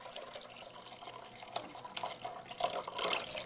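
Milk pours steadily into a bowl of cracked eggs in a home kitchen, a soft continuous liquid splash that swells slightly toward the end.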